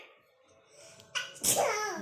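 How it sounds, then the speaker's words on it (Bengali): After a quiet stretch with faint voices, someone nearby lets out a sharp sneeze in two quick bursts. "মামা হাঁচছে"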